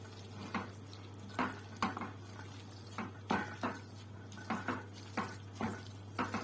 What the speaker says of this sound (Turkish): Böyle karıştıralım ve ağzını kapatalım bunu.